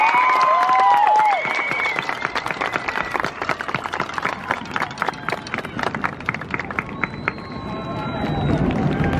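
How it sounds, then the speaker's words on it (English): A graduating high school class of 2021 gets a round of applause: steady clapping from a crowd fills the space, mixed with a few cheers and murmurs, and brief tonal sounds at the start. "Let's give them another round of applause."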